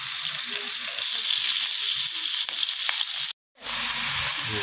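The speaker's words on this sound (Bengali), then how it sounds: "মাছটা এক সাইড ভাজার জন্য আমরা অপেক্ষা করব" Fish sizzles steadily in hot oil in a pan, a constant crackling fry that cuts out briefly near the end before resuming.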